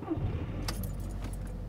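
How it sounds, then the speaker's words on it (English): Car keys jangle in the horror video game Scary Time, a short close metallic jingle over a low steady engine-like hum, with no talk. "Perfect. Keys inside."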